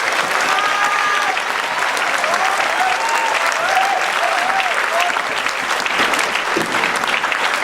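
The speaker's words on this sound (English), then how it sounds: "Can we give them all a round of applause for organizing this whole event?" Strong, sustained applause from the audience at a high school band festival in Hawaii, a thick wall of clapping from a large crowd with some voices mixed in, steady for several seconds.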